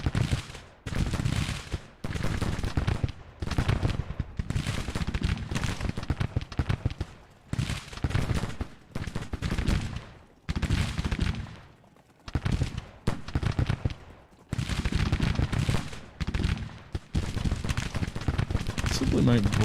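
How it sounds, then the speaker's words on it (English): Sharps rifles firing in the Civil War strategy game Grand Tactician during the Battle of Nashville, heard as repeated loud crackling volleys and rumbling bursts with brief gaps, with someone talking over them. "Some of the Sharps are firing."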